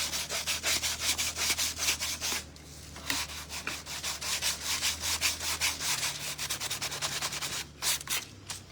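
Steady back-and-forth scraping of sandpaper on wood by hand, rhythmic strokes repeating close up with a brief pause partway through.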